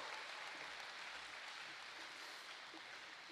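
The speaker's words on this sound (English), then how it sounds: "Can we just give all our Year 9 students one other round of applause?" Audience at a secondary school awards and graduation ceremony giving Year 9 students a round of applause, a steady, even patter of many hands clapping, fairly faint and distant, lasting a few seconds.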